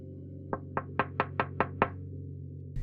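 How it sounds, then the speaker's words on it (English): Seven sharp knocks rap on a window in an even, rhythmic series, loud and close over a low steady hum, followed by silence. "It knocked on my window harder."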